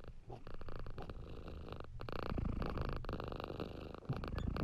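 A cat named Zombie purrs close up in a steady, rumbling rhythm, each breath cycle audible as a soft continuous drone with no voices over it.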